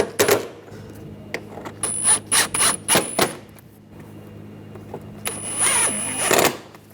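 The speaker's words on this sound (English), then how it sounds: "Now I'll put the screws in." Screws being driven into the front lower grille of a 2010-2014 Volkswagen GTI, heard as a series of short, close whirring bursts separated by pauses, with a longer run near the end.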